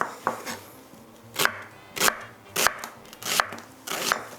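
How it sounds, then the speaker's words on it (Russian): A knife slices an onion into half rings for shashlik. The cuts land close and crisp on a board in a steady rhythm, about one stroke every half second, with no speech. "теперь приступаю к нарезке лука. Лук я буду резать традиционно, классическим методом, это полукольцами"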